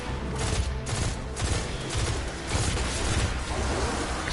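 Pulse rifle fire in Destiny 2: loud, close bursts of rapid shots repeating in quick rhythmic volleys, with booming impacts and no talk.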